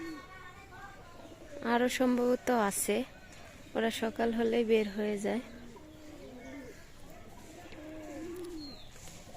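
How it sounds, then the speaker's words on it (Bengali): Pigeons coo faintly in the background at a rural home with mango trees, heard beneath someone talking near the microphone, with soft bird calls continuing after he stops. "এই যে কবুতর হচ্ছে সবগুলা চলে আসছে বাসাতে"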